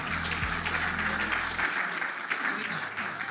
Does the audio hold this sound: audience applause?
yes